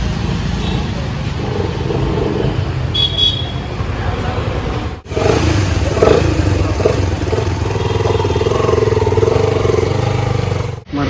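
A Yamaha R15 V2 motorcycle engine rumbles and revs close by as it arrives amid roadside traffic noise, with a sharp break partway through and people talking over it.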